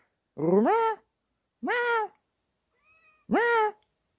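Three distinct cat meows, close and clear, evenly spaced with short pauses between them, plus a faint squeak in one gap.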